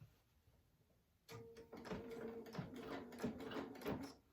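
A Bernina 770 sewing machine starts after a quiet moment and runs steadily with a close mechanical whir and a rhythmic clatter of its working parts, heard alone.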